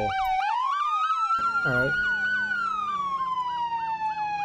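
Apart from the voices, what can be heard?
ambulance siren in the video game Roblox ER:LC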